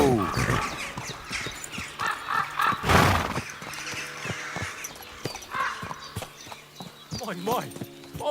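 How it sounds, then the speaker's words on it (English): A horse in the medieval open-world game Kingdom Come Deliverance 2 clops along with hoofbeats and snorts, mixed with in-game effects and speech, with a loud burst near the middle. "My, what a beautiful horse."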